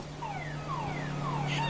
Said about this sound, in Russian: на ней сигнализация